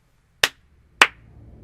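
Three sharp, separate hand claps ring out at a slow, uneven pace, each one crisp and close.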